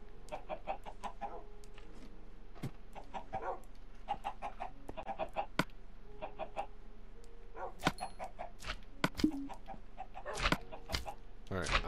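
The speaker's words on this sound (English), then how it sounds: "Chickens, you can be quiet at any time." Chickens in the Minecraft video game cluck repeatedly in short, clipped bursts throughout, steady and fairly close, with occasional sharper clicks between them.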